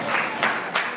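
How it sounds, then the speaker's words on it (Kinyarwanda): Wedding guests applaud at a church ceremony: a short burst of dense, steady clapping with two slightly louder swells, close and continuous for about a second. "Amashyi menshi cyane kuri Iradukunda"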